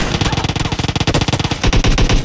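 Loud, rapid machine gun fire in the PUBG Mobile battle royale game, a dense close burst of automatic shots running continuously for a couple of seconds.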